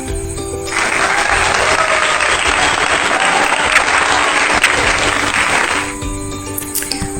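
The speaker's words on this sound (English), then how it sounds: "give applause for us." Eleventh-grade students in a classroom applaud together, a loud burst of clapping that builds quickly, holds steady for about five seconds, then stops abruptly.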